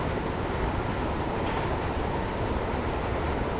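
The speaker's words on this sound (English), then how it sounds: "As we reach 60 miles per hour, I've now shut off power to let the train coast." A passenger train in Train Simulator 2015 coasts with power shut off at about 60 mph on the West Croydon to London Bridge route, making a steady, continuous rolling rumble of wheels on rail with a broad wash of noise and no talk.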